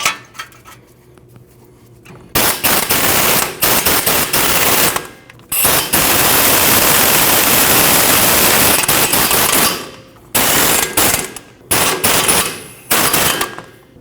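A power tool drives in the four bolts on a Nissan NV2500 front wheel bearing hub. Several loud, rattling bursts of a few seconds each are separated by short pauses.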